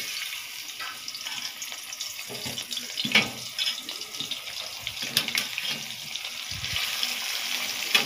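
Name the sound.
draining starch water from boiled parboiled rice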